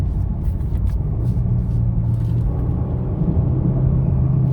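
A 2022 Genesis G70 accelerates with its exhaust droning steadily at close range, a low rumble holding around 3,000 to 4,000 RPM with no voices over it.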